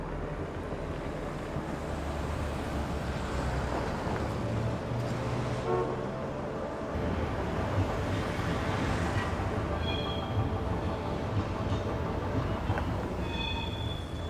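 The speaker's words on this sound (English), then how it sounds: "Sitting here watching the train roll by" A train rolls by at night with a steady, loud broadband rumble and wind-like rush that swells partway through, with faint higher squeals near the end.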